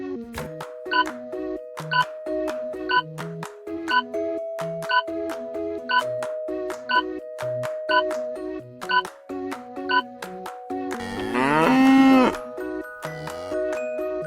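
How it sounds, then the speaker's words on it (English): A cow moos once, a short loud bellow near the end, over a bouncy electronic music loop with plucked synth notes. "COW, cow."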